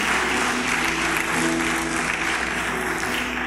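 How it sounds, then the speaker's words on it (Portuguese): Church congregation applauding together, a steady broad wash of clapping that holds at an even level throughout, with faint sustained tones underneath. "dando um aplauso para ele"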